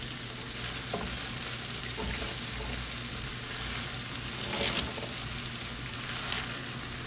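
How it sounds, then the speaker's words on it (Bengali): Fresh Malabar spinach goes into a pan of shrimp masala, which keeps up a steady, even sizzle of frying throughout, with a few soft stirring scrapes and no talk. "এখন এই যে তাজা তরতাজা ফ্রেশ ফ্রেশ পুঁই শাকগুলো আমি এর মধ্যে দিয়ে দিচ্ছি"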